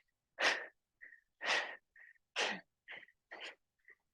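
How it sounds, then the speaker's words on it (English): Rapid, forceful breaths during an energetic yoga flow, paced like running: sharp huffs alternating with shorter, softer inhales in a steady rhythm, close and clear with no talk. "You can breathe like you're running."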